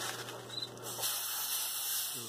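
An airbrush sprays thinned paint in a steady, close hiss that lasts about two seconds, alone and without speech.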